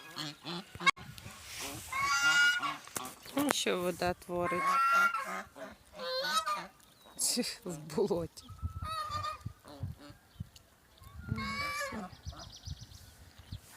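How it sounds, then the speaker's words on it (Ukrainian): Geese honk and hiss repeatedly amid a busy outdoor scene, a gander hissing with its neck stretched, with a person talking and laughing over the birds. "Ось гусак почав так шиєю сикати."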